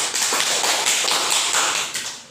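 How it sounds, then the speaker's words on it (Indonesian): Classroom applause, a dense loud patter of many hands clapping for about two seconds, then fading out. "beri aplaus untuk kita semua"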